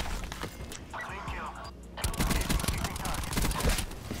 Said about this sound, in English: Chat, that's a submachine gun, by the way.